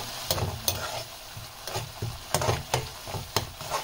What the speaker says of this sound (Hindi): इसमें इस तरीके से चम्मच घुमाते रहेंगे